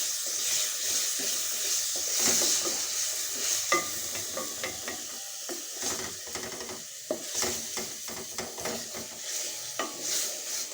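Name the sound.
stirring crushed tomatoes into onion masala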